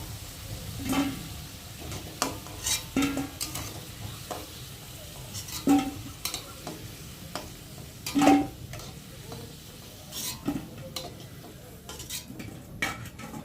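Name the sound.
potatoes frying in oil for kosha mangsho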